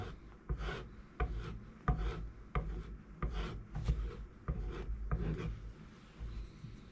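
A steel planer blade drawn back and forth over leather dressed with polishing compound, about ten soft, regular rubbing strokes, close but quiet.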